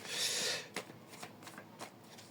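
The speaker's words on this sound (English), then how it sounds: "I'm going to pull a few cards." A deck of oracle cards is shuffled up close: a dense riffling burst at first, then several softer, separate flicks and taps as cards are handled.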